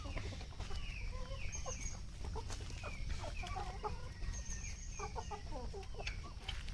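Free-range desi chickens on a farm clucking steadily, with repeated overlapping calls from several birds over a constant low outdoor hum and no talking.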